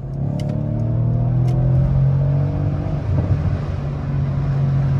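A stock, unmodified sedan's engine idling and briefly blipped by hand, a steady low hum with a slight swell midway, heard close up with no talking.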